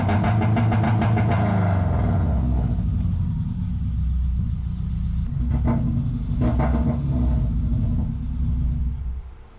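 A rallycross car's engine idles roughly and unevenly, a deep grumbling rumble with a few sharp blips of revving, running close by for nearly ten seconds before fading at the end.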